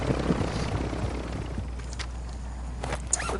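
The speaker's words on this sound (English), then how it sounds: "Let's protect this particular helicopter." A helicopter in a Call of Duty game gives off a steady rotor and engine rumble throughout, fairly loud and close, with faint game noises over it.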